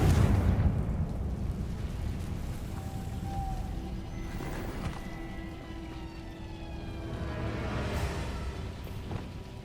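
A Confringo blasting spell goes off in Hogwarts Legacy, bursting loudly at the start and then trailing into a long rumbling roar that stays heavy throughout.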